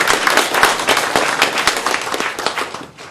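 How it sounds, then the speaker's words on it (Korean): An audience gives loud applause at a book launch event in a press center in Gwanghwamun, Seoul, with dense rapid clapping from many hands that fades toward the end. "뜨거운 박수 부탁드립니다"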